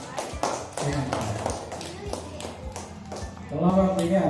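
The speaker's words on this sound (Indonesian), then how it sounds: "tepuk tangan" A classroom at a teacher-training practice session applauds after a group presentation, with rhythmic, evenly spaced claps and taps alongside talking voices, and a louder mixed burst near the end.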